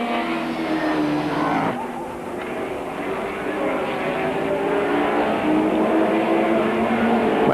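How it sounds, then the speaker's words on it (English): A Holden-engined Carlton Thundersaloon race car bellows at Mallory Park in 1991, a loud sustained engine roar that dips briefly then climbs again through the gears, with a commentator talking over it. "The distinctive bellow of the General Motors Holden engine of the Carlton Thundersaloon"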